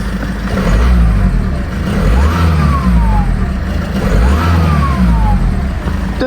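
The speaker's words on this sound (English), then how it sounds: "Let's give it a couple of revs." A high-mileage VW Golf Mk6 engine revs twice, steady mid-pitched drone swelling with each blip and a faint turbo whistle, close and loud with no talk.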